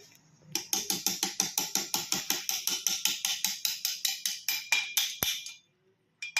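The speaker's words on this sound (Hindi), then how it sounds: "कुछ इस तरीके से पिस्टन का होल मिला के आपको यहाँ से ये पिन अंदर ठोक देनी है।" A piston pin is tapped into a Splendor motorcycle piston with a fast, even run of roughly twenty-five metallic hammer blows, close and sharp, ending with one last louder knock.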